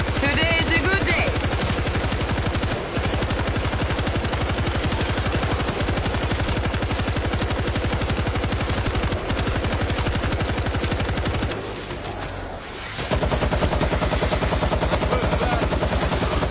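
A mounted gun in World War Z: Aftermath fires in a long, loud, sustained stream of rapid shots, close up, with a brief lull before the fire resumes.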